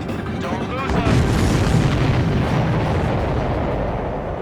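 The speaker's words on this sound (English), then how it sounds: "That's a confirmed direct hit by the missile." In the Ace Combat 7 flight game, a missile strikes its target with a heavy, rumbling explosion that swells after a second and keeps roaring loudly to the end, with radio chatter from the game mixed in.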